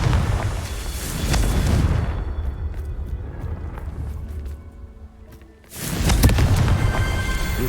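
Confringo blasting curse explosions in the Hogwarts Legacy video game: a heavy, rumbling burst at the start, a quieter crackling lull, then a second loud blast near the end.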